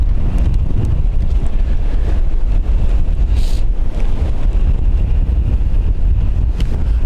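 Strong wind at Dublin Airport buffeting the microphone, a loud continuous roar and rumble with gusty low-end turbulence throughout, no voices.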